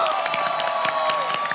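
A studio audience on an Indonesian TV game show applauds in a dense patter of clapping with some cheering over steady background music.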